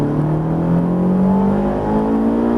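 A Ferrari 458 pulls hard on a race circuit, its engine note climbing smoothly and loudly in one sustained rising whine, heard from close by with no pauses.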